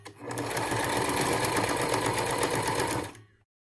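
A sewing machine stitching leather runs steadily for about three seconds, a fast continuous mechanical stitching rattle that winds down and stops.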